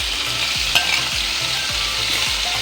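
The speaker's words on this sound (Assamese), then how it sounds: "এতিয়া মই তেল 4 চামুচ ভালদৰে গৰম কৰি তাতে ফুলকবিখিনি দি দিছোঁ।" Cauliflower frying in about four spoons of well-heated oil in a pan, giving a loud, steady sizzle with regular low thumps as it is stirred.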